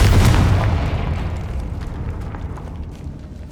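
In Hogwarts Legacy, the fiery Confringo spell detonates as a heavy booming explosion that hits loud at once and then rumbles and fades away over several seconds.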